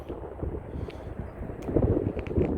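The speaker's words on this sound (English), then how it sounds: "it's a cold, windy day today in May" Gusty wind buffets the microphone on a cold, windy May day at an outdoor overlook above the Anacostia River and South Capitol Street Bridge in Washington, DC, a steady low rumble that swells louder near the end, with no one talking.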